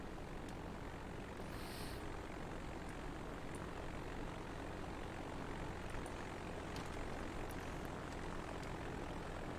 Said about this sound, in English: Oh, there goes that one plane